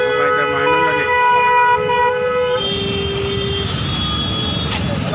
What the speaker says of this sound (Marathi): ट्रॅफिक पूर्ण जाम झालं.